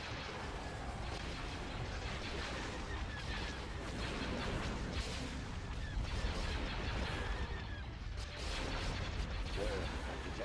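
Blaster and artillery fire in a Star Wars Hoth ground assault battle, a dense continuous barrage of shots and blasts with rumbling explosions throughout, loud and busy from start to finish.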